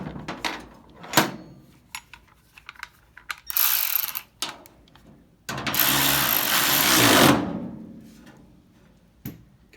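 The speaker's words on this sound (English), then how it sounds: "Now I'm going to take and cinch up this one bolt that we have in there." A ratchet wrench cinches a bolt on a 1949-54 Chevy passenger car hood strut mount, heard as close, rapid clicking bursts with a few knocks and pauses in between.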